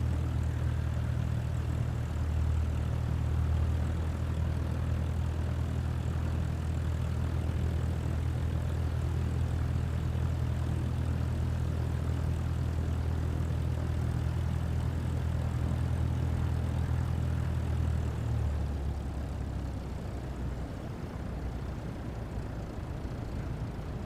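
An aircraft taxiing in Microsoft Flight Simulator 2024 on PS5, a steady propeller-engine drone with a strong low hum that holds level for about eighteen seconds before easing off slightly, no talk over it.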